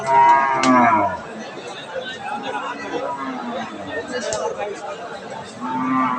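Cattle lowing at a busy rural cattle market, with a couple of loud moos near the start and end over a constant crowd murmur and people talking.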